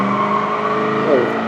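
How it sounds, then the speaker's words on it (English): A car passes by with a steady, loud engine hum and a brief rising swoop near the end, close and continuous with no break. "Oh, okay, car."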